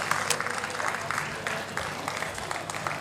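An audience at a Hindi comic poetry gathering (kavi sammelan) at the 2023 Kharagpur book fair applauds to welcome comedian Ahsan Qureshi, a steady wash of clapping of moderate loudness, heard somewhat distant, with a voice mixed in.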